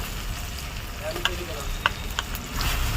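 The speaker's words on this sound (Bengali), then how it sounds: "মাংসের মশলাটা খুব সুন্দরভাবে কষানো হয়ে গেছে" Ginger, onion and garlic spice paste fries for goat mutton in a pan with a constant dense sizzle, with a few light clinks of a stirring spoon close by.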